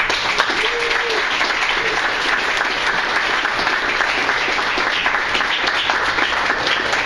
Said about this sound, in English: please give a big round of applause to Andrew Huff.